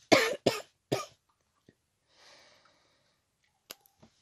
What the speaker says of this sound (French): je tousse pour ne pas changer